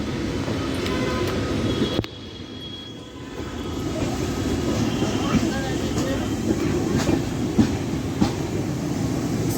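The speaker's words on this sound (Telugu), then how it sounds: "సికింద్రాబాద్ జంక్షన్లోకి ఎంటర్ అవుతుంది ట్రైన్ అయితే." A passenger train runs into Secunderabad Junction with a steady, loud rumble of wheels and carriages and a faint clickety-clack over the rails, continuous throughout with brief louder clanks.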